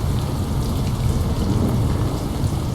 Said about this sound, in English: that like the rain is kind of dripping